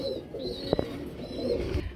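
Pigeons at a pigeon market coo softly in low, rolling calls, with a couple of sharp taps in the middle amid faint market background.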